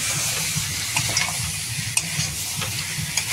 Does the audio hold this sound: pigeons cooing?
no